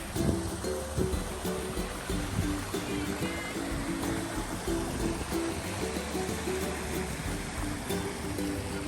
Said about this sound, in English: That's the Little Red Dirt Waterfall behind.